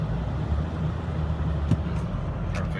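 A 2003 Ford truck with a 7.3L diesel engine idles and reverses in four-wheel drive high, a steady low rumble close by with a few faint clicks.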